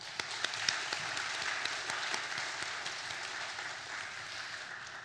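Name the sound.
applause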